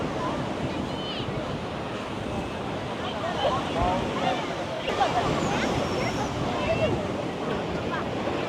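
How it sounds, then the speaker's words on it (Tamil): Rough, turbulent sea surf rolls and crashes along the Jaffna shore in a steady loud roar with wind buffeting the microphone, while people talk faintly over the surging water. "ஆனால் கடல் நல்ல கொந்தளிப்பாக இருக்குது"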